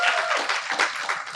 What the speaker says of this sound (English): we just want to applaud Mendel one more time for doing a handout